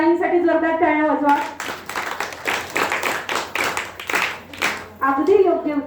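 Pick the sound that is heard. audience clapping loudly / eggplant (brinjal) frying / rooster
audience clapping loudly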